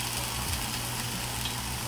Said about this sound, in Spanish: aquí me voy a quedar dorando tortilla